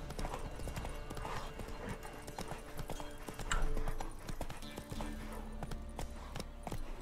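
A horse gallops in The Witcher 3, its hooves beating a steady clip-clop rhythm at moderate volume over ambient game sound, with one louder stretch of hoofbeats midway.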